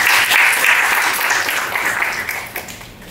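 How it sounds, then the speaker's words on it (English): Audience applause at a student project presentation on arts-based intervention in juvenile justice, a loud dense burst of clapping that fills the room and then gradually thins and fades toward the end. "So round of applause for them."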